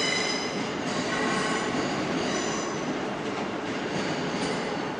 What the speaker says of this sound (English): And here comes a London Overground service from goodness knows where.